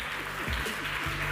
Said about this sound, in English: Can we give her a hand of applause?